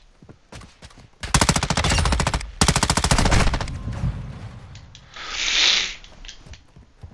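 Gunfire in the video game Call of Duty: rapid loud bursts of automatic fire crackle in two long runs, then die away into quieter game ambience with a faint whoosh near the end.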